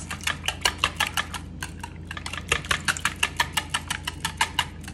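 Breakfast casserole ingredients, including onions, black pepper and salt, being mixed in a bowl: a fast, steady run of clinking, scraping utensil strokes, close and clear, with no talking.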